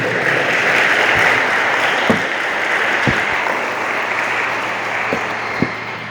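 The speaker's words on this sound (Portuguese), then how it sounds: "Aplauda a palavra do Senhor." A church congregation applauds in a steady wash of clapping from a crowded room, with a few louder thumps standing out near the end.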